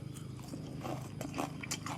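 Someone eating dinner close to the microphone, with steady wet chewing and small crunchy bites repeating over a low background hum.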